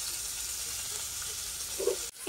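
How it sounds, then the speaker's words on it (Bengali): Pieces of shol fish (snakehead) fry in a pan in a home kitchen, giving a steady, close sizzling hiss with a few louder spits of oil near the end. "এই যে মাছগুলো ভাজি করছি"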